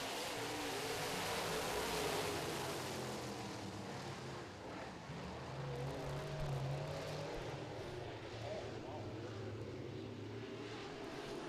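Modified race cars roar around a short oval track after the green flag, a dense, continuous engine drone that swells and fades slightly as the pack passes, with no talk over it.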